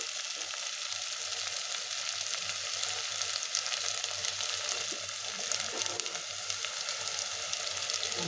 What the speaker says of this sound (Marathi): आता हे वाटण आपण तेल सुटेपर्यंत परतून घेणार आहोत.